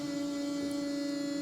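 The electric fuel pump of a Holley Super Sniper fuel system priming on a supercharged 347 Foxbody, a steady, faint, even hum with no talking.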